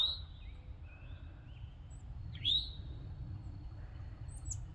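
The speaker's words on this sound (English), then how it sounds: "What is that bird?" A wild bird, black-headed, gives a few short, clear chirps and a rising tweet, fairly faint and spaced apart over a low steady background hum outdoors.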